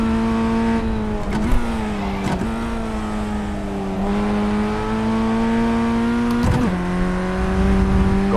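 Formula 1600 open-wheel race car engine in the iRacing simulator, a loud steady drone held at high revs with brief dips and rises in pitch at gear changes, running alone without talk.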